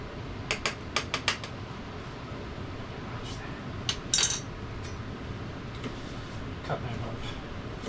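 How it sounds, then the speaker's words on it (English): A knife roughly chops jalapeños on a board, giving a quick run of faint, sharp taps early on, then scattered lighter clicks over a quiet background. "Cut them up roughly."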